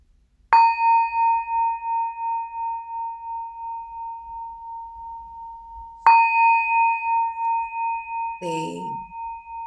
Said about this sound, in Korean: 종소리와 함께 시작해 보도록 하겠습니다.